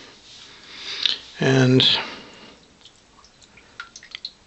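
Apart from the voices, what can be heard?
boar bristle shaving brush dropped in water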